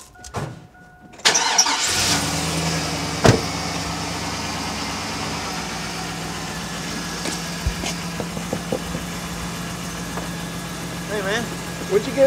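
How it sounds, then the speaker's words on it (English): An old pickup truck's engine catches and settles into a steady idle, running loud and close throughout with a few small knocks and clicks over the top. "Truck running."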